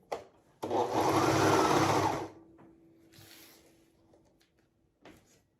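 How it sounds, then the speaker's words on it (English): A sewing machine stitches corset seams in one loud continuous burst of about one and a half seconds, then stops. Softer handling and shuffling sounds and a faint steady hum follow. "So I start sewing kind of back towards the actual side seam, somewhere in between the side seam and that first seam."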